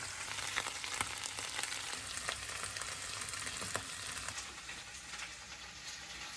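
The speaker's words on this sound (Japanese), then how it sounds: "水気が多いのでだいぶ油跳ねしてます。" Cabbage and green pepper frying in oil, a continuous crackling sizzle with frequent sharp pops of splattering oil from the watery vegetables, fairly faint and steady, no talking.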